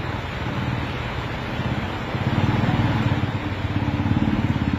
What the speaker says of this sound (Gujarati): વેજલપુરમાં અત્યારે ભારે વરસાદ પણ વરસી રહ્યો છે